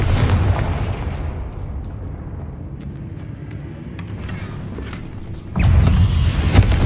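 Confringo blasting spell explosions in the Hogwarts Legacy video game open with a heavy low rumbling boom. A long, decaying roar follows, and a second loud blast lands near the end.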